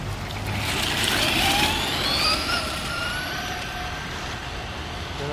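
A Traxxas Stampede 2WD VXL RC truck speeds past outdoors with a high, rising electric motor whine that sweeps in pitch as it nears and pulls away, loud at first and fading slightly.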